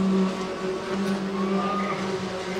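Formula 4 race cars competing on a circuit during a Southeast Asian championship race, heard as a continuous engine drone with a steady whining pitch, fairly distant and even in loudness throughout.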